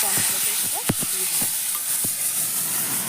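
Cinnamon, cardamom and cloves frying in oil for a cabbage dish, a constant sizzle broken by several sharp scraping stirs, with one louder clatter near the start.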